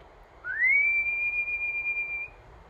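A voice imitates a whistling tea kettle as one steady, high, pure whistle that slides up quickly and then holds for nearly two seconds, close and clear in a quiet room.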